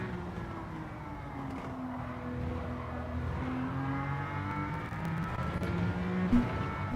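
A McLaren GT3 race car in a racing video game time trial drones steadily at high revs, engine pitch rising and falling through gear changes with faint tyre squeal, continuous and moderately loud with no talk.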